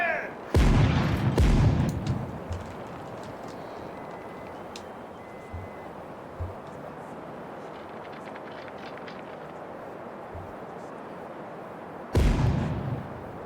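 A ship's broadside of cannon fire in the Caribbean Legend naval battle, opening with a loud rolling volley of overlapping booms, scattered distant thuds across the middle and another heavy blast near the end.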